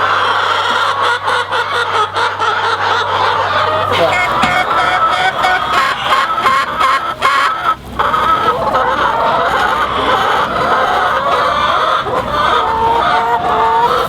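Hens cluck continuously around a shared nest on a poultry egg farm, a close, dense chorus of overlapping calls with a steady hum in the first few seconds and faint talk mixed in.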